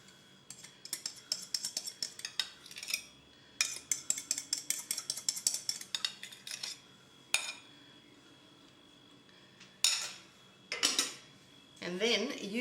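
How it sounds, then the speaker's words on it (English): Knife cutting through scone mixture of self-raising flour, butter, milk, egg and sugar in a bowl, giving rapid rhythmic clinks and scrapes in bursts with pauses, close by and fairly quiet. "using a knife, just cut through that mixture until it's all combined"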